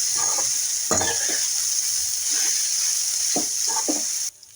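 Crumbled leftover idli fried with onions in a pan for idli upma is stirred with a few scraping strokes over a steady sizzling hiss, close by with no talk.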